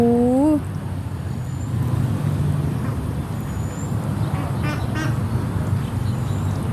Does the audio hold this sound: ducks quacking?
yes